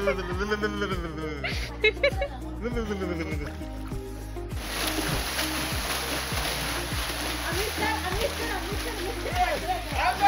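Water splashes repeatedly and continuously in a villa swimming pool, close and lively, while people talk and shout over it throughout.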